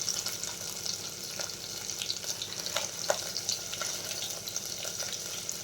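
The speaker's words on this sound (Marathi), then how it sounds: "तर आल्या लसणाचा कलर चेंज झाल्यानंतर कांदा टाकून घ्यायचा आहे." Onion frying in oil in a pan with garlic and ginger that have just turned color, a steady close sizzle with faint stirring clicks and scrapes throughout, no voices.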